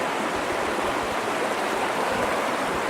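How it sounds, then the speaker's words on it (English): A river flowing outdoors in a remote spot, a dense, steady rushing wash of water that holds an even level from start to finish, with no voices or other sounds. "I found this really sweet location over here, out in the middle of nowhere. It's a nice, beautiful river."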